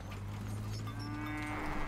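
Cattle mooing in the Blind Drive video game, a steady, loud drawn-out lowing that holds for about two seconds with no talk over it.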